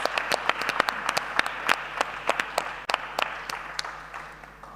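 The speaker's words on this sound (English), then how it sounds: "give them already a big round of applause" A crowd applauds steadily at a presentation event, dense clapping throughout with a few sharper claps standing out, fairly close.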